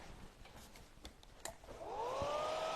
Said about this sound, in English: I will have to get my hairdryer plugged in, and I'm just going to dry that off really quickly.